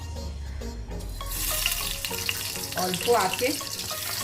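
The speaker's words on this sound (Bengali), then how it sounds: "এর ভিতরে পুরটা ভরে এখন আমি এটা ভেজে নেব।" Stuffed bottle gourd frying in a pan gives a close, bright sizzle that swells after a quieter start, with some clatter as it is handled and a brief spoken remark.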